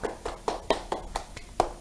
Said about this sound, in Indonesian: Kita tepuk dulu yuk teman-teman yuk.